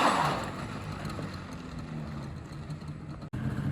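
A Yamaha Banshee engine runs steadily nearby with the throttle turned up slightly, a constant buzzing drone with a brief dropout near the end.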